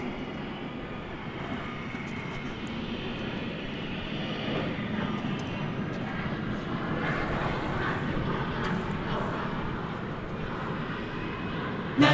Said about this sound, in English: I'm hearing a Cessna 208B Grand Caravan.